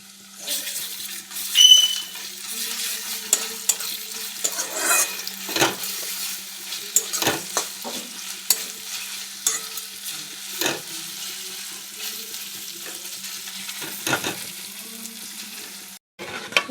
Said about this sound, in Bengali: পেঁয়াজ ভাজা হয়ে গেছে, দিয়ে দিলাম আদা রসুনের পেস্ট।